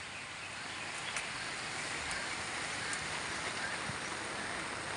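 Heavy early-morning rain on the third straight day of downpour at a rural farm where water buffalo are kept, a dense, steady hiss of falling water that fills the whole clip without a break.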